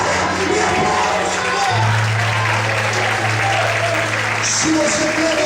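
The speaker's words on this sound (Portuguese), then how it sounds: "Mais aplausos, mais aplausos. Mais aplausos ao Senhor." Church congregation applauding at a worship service, a steady broadband wash of clapping throughout with sustained tones and a voice carrying over it.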